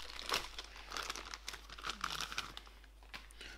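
Plastic packaging on an Opt Lasers 6W laser module being snipped open and handled, close crinkling and crackling in a few irregular bursts, fairly quiet, with no talking.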